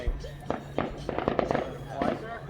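Backyard fireworks go off in a string of sharp cracks and pops, some close and some farther off, while people talk over them.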